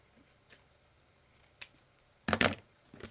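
Scissors snip a piece off the bottom of a paper craft triangle explosion box: a few faint isolated snips, then a louder burst of quick close cuts, with no talking.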